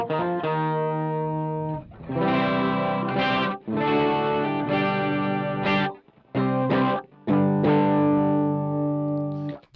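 Electric guitar played through a Boss ME-80 multi-effects unit with an octave effect, doubling notes up and down, sustained distorted chords and phrases separated by brief pauses, loud and close with no talking.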